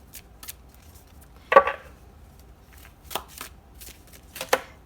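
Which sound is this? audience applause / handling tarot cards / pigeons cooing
handling tarot cards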